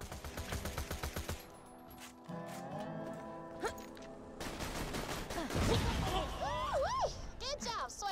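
Rapid bursts of gunfire rattle in quick repeated volleys, then give way to game sounds with chirping, swooping tones and rumbling explosion noises as cars are destroyed in Borderlands 2, with talk heard over parts of it.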